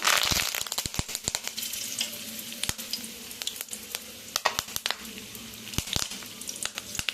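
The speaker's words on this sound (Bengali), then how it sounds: "ওই গরম তেলের মধ্যে এই কারি পাতাগুলো ভেজে দেবো।" Curry leaves dropped into hot oil after the flame is switched off, popping and spitting with a sharp loud burst at first, then a dense run of crackles and sputters over a fading sizzle, close up.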